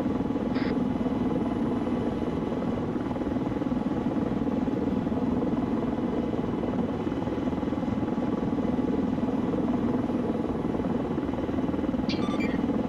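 A helicopter flies close by during a military operation, a loud, constant rotor thrum and engine roar throughout, with no speech.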